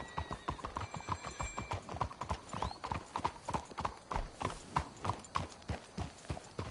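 Horse hooves clip-clopping steadily in Red Dead Redemption 2, a close, even, continuous trotting rhythm of several horses, with faint voices and a brief tonal sound near the start.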